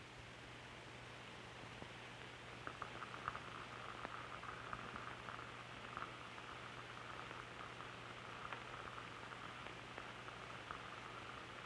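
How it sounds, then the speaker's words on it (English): Lumps of calcium phosphide react in a beaker of water, giving a faint, steady fizzing hiss with scattered soft bubbling pops, quiet and close under a low hum. "the calcium phosphide is reacting with the water, forming bubbles of phosphine"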